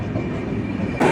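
The 12822 Dhauli Express pulls out of Bhadrak station on the main line with a steady low rumble and rattle from inside a crowded coach. The sound swells louder and brighter near the end, with no talking.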